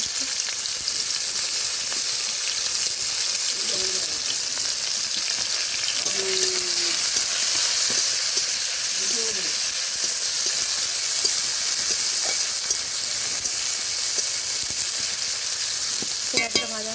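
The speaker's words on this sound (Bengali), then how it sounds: "পেঁয়াজটা ভাজা হবে" Chopped onions with garlic, green chilli, chilli and turmeric powder sizzle loudly in hot oil for a pangas fish curry, a steady close hiss with occasional stirring scrapes and faint distant voices.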